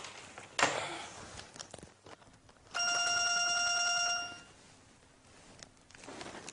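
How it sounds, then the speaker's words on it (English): A telephone rings in an office with one steady electronic ring burst lasting about a second and a half, loud and near, with faint thumps and room noise around it and no speech. "Linda, the phone is ringing"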